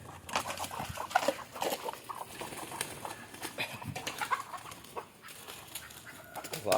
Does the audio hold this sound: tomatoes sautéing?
no